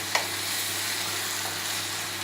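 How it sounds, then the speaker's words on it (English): Onions frying in a pan for chicken vindaloo, a steady close sizzle with a faint scrape of stirring near the start, no voices. "So I'm going to do a good stir with onion."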